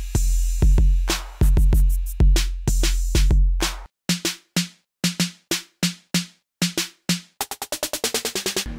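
Roland R-8 drum machine playing an example beat: heavy booming kick and snare hits at first, then a tighter, drier pattern of crisp snare-like hits ending in a rapid roll, played alone.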